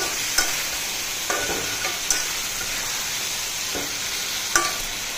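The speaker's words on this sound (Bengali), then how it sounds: "ভালো করে কষিয়ে নেই তরকারিটা" Taro curry with spices sautéing in a pan gives a steady close sizzle, broken by a few sharp clinks and scrapes as a spoon stirs it at irregular intervals, with no talking.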